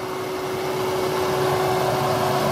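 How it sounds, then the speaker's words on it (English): Six-cylinder engine of a 2000 Volkswagen Passat station wagon idling steadily, a constant close hum with a faint fixed whine, alone with no talk. "Six-cylinder motor runs great."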